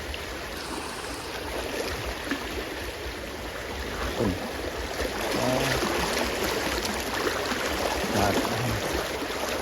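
Floodwater rushes across a washed-out road in Laos, a steady broadband roar of flowing water heard from close by, continuous throughout, with a brief spoken word near the start.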